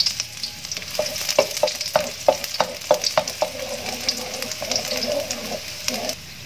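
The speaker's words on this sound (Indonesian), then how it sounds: "Kita tumis bawang putihnya." Garlic sizzles in hot frying oil in a home kitchen, with a run of sharp clinking strikes as it is stirred and tossed, then the frying settles into a steady hiss.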